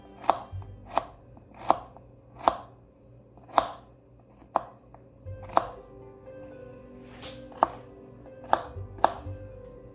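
A knife minces fresh garden garlic on a cutting board for a rosemary and garlic loaf, about a dozen sharp, evenly spaced chops ringing out close and clear against a quiet room.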